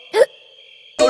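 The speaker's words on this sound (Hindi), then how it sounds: "हिचकी" Two sharp hiccups about a second apart, loud and close, with a faint steady tone running between them, in a scene from a Hindi-dubbed South Indian movie.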